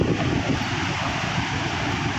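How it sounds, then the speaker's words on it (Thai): Wind blows outdoors during frog digging, a steady, fairly loud rushing roar buffeting close to the microphone, with no voices. "เสียงลมพี่น้องเอ้ย"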